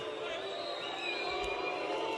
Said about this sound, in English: The crowd don't like this.